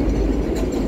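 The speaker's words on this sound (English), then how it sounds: "So yung may dumadaan sa subway, naririnig niyo po sa background." A subway train passes during a snowstorm in Woodside, Queens, a loud continuous low rumble mixed with strong wind.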